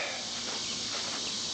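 Honey bees swarm around a honey shed and extraction equipment during a late-July honey harvest, making a steady, dense buzzing hum that stays close and unbroken throughout.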